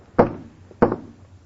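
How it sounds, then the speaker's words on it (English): Two firm knocks on a wooden lifeboat aboard a ship, spaced about half a second apart, close and loud against near silence. "Lady, will you please stop knocking on those lifeboats?"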